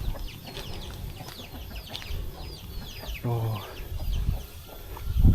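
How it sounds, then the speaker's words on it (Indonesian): Chickens cluck and chatter around a rural Javanese village in Semarang regency, Central Java, as scattered short calls at moderate distance, mixed with someone talking and some low rumbling background noise. "banyak ayam berkeliaran di sini ya"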